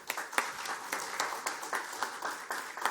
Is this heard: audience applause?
yes